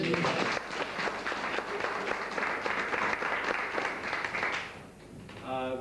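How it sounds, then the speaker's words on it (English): A crowd at a railway weekend event applauds a guard standing to attention with a sustained round of dense clapping, fairly loud and even. It fades near the end as a voice begins speaking. "Give them a round of applause."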